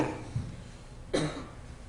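A stage performer portraying Mark Twain in a concert setting gives two short, soft coughs about a second apart, quiet and close against a faint room hiss.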